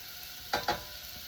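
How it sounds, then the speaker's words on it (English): Onions and minced garlic sautéing in a pan, a faint steady sizzle with two quick scraping strokes close together. "We're going to saute the onions and garlic for about"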